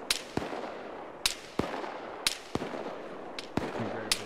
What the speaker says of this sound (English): Shots at us, east, northeast, about 50.